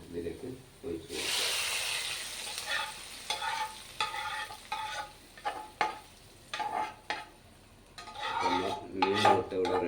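Shallots, curry leaves and dried red chillies hiss and sizzle in hot oil in a pan for a fish curry, with a loud burst of frying followed by intermittent stirring scrapes and utensil clinks close by.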